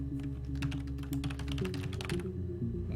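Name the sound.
fake keyboard typing sounds in the video game Her Story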